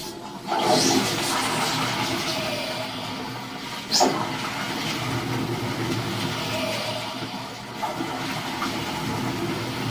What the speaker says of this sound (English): Let me flush the toilet